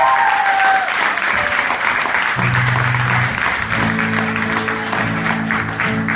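Concert audience at a live music show in Córdoba applauding steadily, a dense wash of clapping filling the whole stretch, with a faint tonal sound drifting beneath the crowd.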